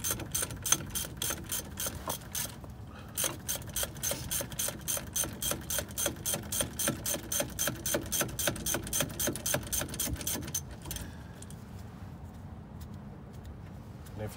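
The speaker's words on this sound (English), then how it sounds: "Get you a 14mm to remove the caliper bracket bolts." A ratchet fitted with a 14mm socket loosens brake caliper bracket bolts, its pawl clicking in quick regular bursts close by, with a short pause partway through; the clicking stops and a quieter background remains.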